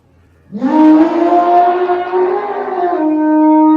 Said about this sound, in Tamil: வெளியில யானை சத்தம் கேக்கு